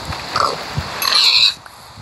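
Pig oinking in the Minecraft video game, a couple of short grunts followed by a louder, brighter squeal-like call near the end, clear and close with no talking.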